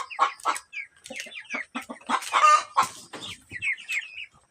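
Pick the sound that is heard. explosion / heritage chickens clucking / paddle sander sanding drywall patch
heritage chickens clucking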